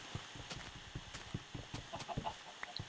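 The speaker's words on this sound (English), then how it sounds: "Stupid chickens." Chickens in the video game Minecraft cluck in short, quick bursts with occasional higher peeps, close and fairly quiet, the pecking sounds coming irregularly over a few seconds.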